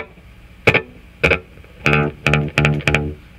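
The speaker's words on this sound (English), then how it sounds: "if we're in echo mode, I'll try just engaging head 1" Binson Echorec tape echo on its first head gives each short plucked note a quick slap-back repeat, six bright attacks with tight echoes following closely, clear and close with no talking.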